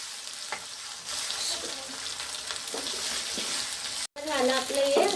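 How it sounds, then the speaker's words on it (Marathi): Crushed garlic, ginger and green chilli hit hot oil in a pan for a vegetable dish, giving a steady close sizzle with light stirring scrapes, a brief dropout near the end, then renewed frying. "त्याच्यानंतर आपल्याला टाकायचं लसूण, अद्रक आणि हिरवी मिरची."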